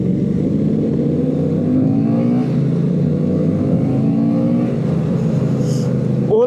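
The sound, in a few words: group of motorcycles revving with exhaust popping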